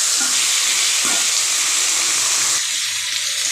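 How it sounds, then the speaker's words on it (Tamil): Three tomatoes sauté in a pan for a vallarai keerai chutney, filling the sound with a loud, dense, steady sizzle and a couple of soft stirring bumps, easing slightly toward the end. "இதே சேர்த்து நல்லா வதக్கிக்கலாம்"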